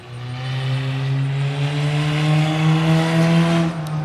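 A race car runs laps on a track, its engine a steady, sustained drone that stays loud and close for several seconds without a break.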